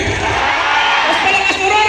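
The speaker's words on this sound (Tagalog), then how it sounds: "pwede ba kayong sumigaw yung saan, yung napakalakas?" Dense festival crowd at an outdoor music festival roaring and yelling together at full volume, a continuous wash of many voices close and loud for about two seconds.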